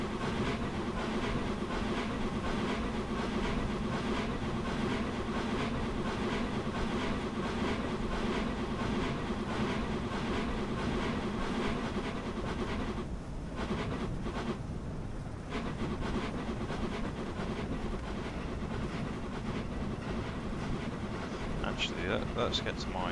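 Locomotive sound loops from the Caledonia Works Raven A2 in Train Simulator 2019: a steady, loud engine drone with rhythmic rail clatter that keeps going throughout, briefly thinning midway before resuming.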